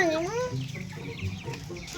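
Farm chickens cluck and call in the countryside, with one rising squawk at the start followed by softer, choppy clucking and faint voices in the background.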